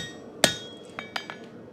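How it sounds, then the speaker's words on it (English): A blacksmith's hammer strikes an anvil while forging a notch into the corner, one sharp ringing blow followed by three lighter, quicker taps, close and clear with no talk. "I just like to go across my anvil and come down on here, right into the corner"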